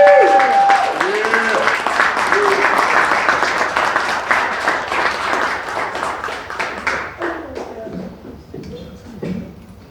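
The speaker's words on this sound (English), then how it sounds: "Keep clapping." Comedy show audience breaking into loud, sustained applause that thins out and tapers away toward the end, with scattered voices and calls rising over the clapping.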